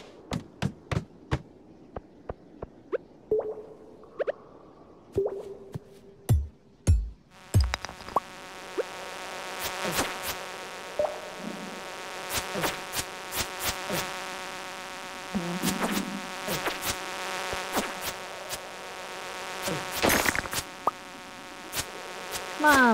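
Insect-like bug monsters buzz continuously in the mines of the Stardew Valley video game, with a steady droning hum under repeated sharp clicks and taps from gameplay, and no talk.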